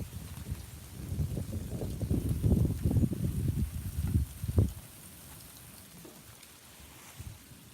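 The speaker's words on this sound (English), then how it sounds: "Let's see if it's still freezing rain out there. Yeah, I can hear it." Freezing rain falls outside, a soft, steady hiss and patter that swells for several seconds with scattered louder taps, then settles into a quieter background wash.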